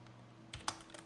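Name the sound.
typing on a computer keyboard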